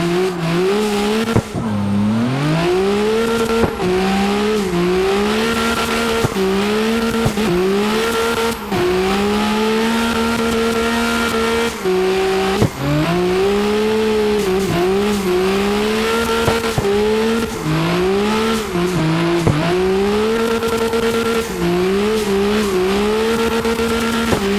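A race car in the CarX driving game accelerates and shifts repeatedly, its engine note rising and falling through gears with tire squeal and skidding, loud and continuous throughout.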